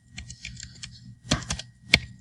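Keys tapping on a computer keyboard as a command is entered into software, a scatter of light clicks followed by a firmer cluster of keystrokes and one sharp final press, close and clear with no talking.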